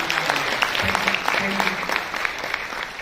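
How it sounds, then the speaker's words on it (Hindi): A seminar audience gives a brief, lively round of applause for a participant from Gwalior, Madhya Pradesh, with scattered claps and faint voices mingling in over a few seconds. "एक बार जोरदार तालियां ग्वालियर से हमारे साथ"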